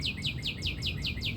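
Birds chirp in a steady, repeating pattern of high tweets, about seven quick calls, over a low background rumble of distant conveyors at a quarry.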